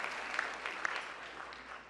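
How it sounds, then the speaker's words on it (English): Applause from a large dinner audience at a White House Correspondents' Dinner event in Washington, a steady wash of distant clapping fading slightly toward the end. "Give him a big round of applause."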